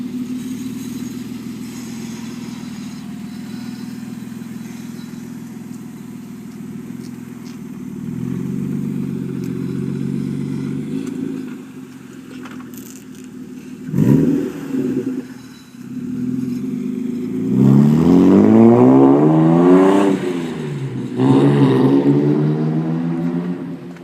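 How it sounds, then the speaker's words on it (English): A BMW E36 323is with its muffler deleted for a straight pipe and dual tip idles with a low rumble, then revs several times in sharp rising and falling bursts toward the end, close and loud. "E36 323 IS muffler delete to a straight pipe dual tip."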